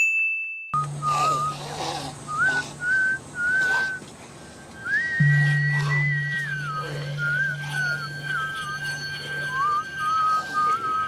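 Someone whistles a bouncing, repetitive tune nonstop in a scene from The Walking Dead, clear and close over a low steady hum, with a faint ringing tone in the background.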